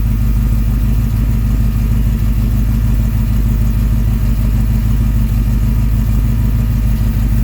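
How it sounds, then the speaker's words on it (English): A 1966 Plymouth engine with a Carter fuel pump and new exhaust, idling close and loud. It makes a steady low rumble with an even pulsing beat and no talk. "I just wanted you to hear how quiet the Carter fuel pump is."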